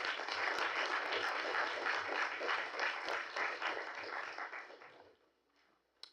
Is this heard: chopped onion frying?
no